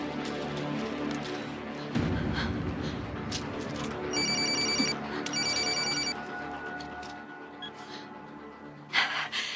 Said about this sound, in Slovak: Dohodli sme sa, že mi nebudeš volať na toto číslo, Toledo.